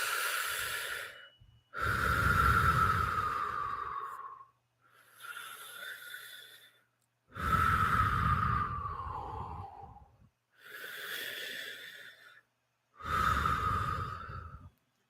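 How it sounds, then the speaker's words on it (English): Three slow, deep breaths are taken close to the listener, each a long, loud inhale followed by a softer exhale, with short silent gaps between them and no talking. "I'd just like you to take 3 deep breaths."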